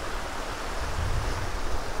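The swollen River Feshie in Glen Feshie, Scotland, rushes along after rain, a steady broadband roar of flowing water mixed with wind noise, close and loud without pause.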